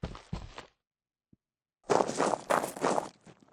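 Footsteps in an Unreal Engine 5 game cycle across dirt, gravel and tile surfaces: a couple of steps, a pause, then a quick run of crunchy, close steps.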